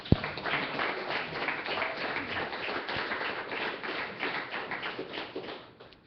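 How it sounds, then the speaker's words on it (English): A church congregation applauding, a dense, sustained patter of many hands clapping at moderate distance, steady throughout with a sharp tap at the start. "Applaud yourselves."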